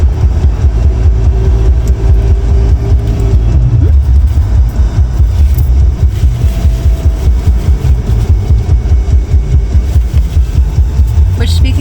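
With the windows down, a moving car keeps up a continuous low engine drone and wind rush, a steady hum dropping in pitch partway through as the engine note shifts.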